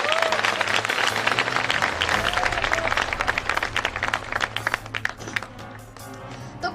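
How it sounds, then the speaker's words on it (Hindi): Applause from a seated audience at a Hindi motivational speech by a district collector, dense steady clapping that carries across the whole stretch and thins slightly toward the end, with no voices over it. "एक बार तालियां बजाकर"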